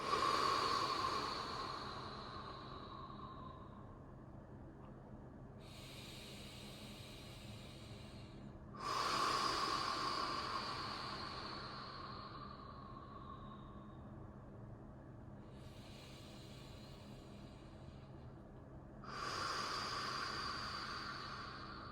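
Slow, deep breaths during a yin yoga hip and lower back session, with soft, airy inhales and exhales drawn out over several seconds each. Roughly three full cycles are heard, close and quiet.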